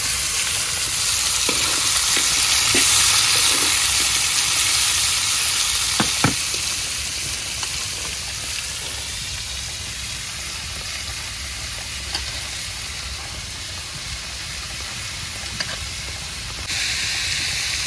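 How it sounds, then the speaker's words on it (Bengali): Bitter gourd sizzles in a pan with onion and chili tempering, a steady hissing fry close by, with a few scrapes and clinks of stirring. "এই পেঁয়াজ মরিচ ফোড়নটা হয়ে গেছে, আমি করলা দিয়ে দিই।"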